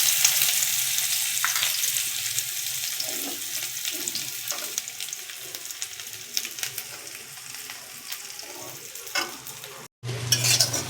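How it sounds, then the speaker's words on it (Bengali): Onions frying in oil in a pan after a single chilli has been browned, a steady close sizzle with stirring scrapes throughout, briefly cutting out near the end. "ওই তেলেই দিয়ে দেবো পেঁয়াজ,"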